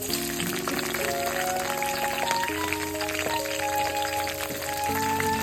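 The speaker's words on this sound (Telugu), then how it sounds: "ఇందులోకి ఒక 50 గ్రామ్స్ పచ్చిమిర్చిని ఇలా ముక్కలు కట్ చేసి వేసుకోవాలి." Fifty grams of chopped green chillies frying in hot oil, a loud, dense and steady crackling sizzle close to the microphone that holds throughout, with a low, steady background hum and no talk.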